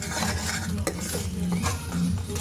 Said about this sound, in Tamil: இப்போ வந்து நம்ம வந்து நல்லா மிக்ஸ் பண்ணி விட்டுக்கலாம்.